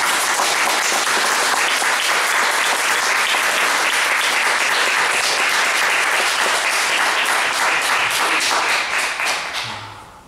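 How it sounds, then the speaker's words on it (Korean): A large church congregation applauds vigorously and steadily for about ten seconds, a dense wash of clapping that fades out at the end. "이 시간 격려와 위로의 박수를 우리가 힘있게 했으면 좋겠습니다"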